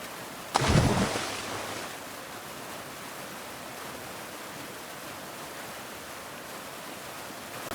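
A swift river current in a short film scene starts with a sudden splash-like burst, then settles into a steady, moderately faint rushing wash of water with no voices.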